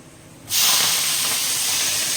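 A sudden loud sizzle bursts in after a quiet moment and keeps hissing steadily as leafy greens are dropped into hot oil with fried garlic.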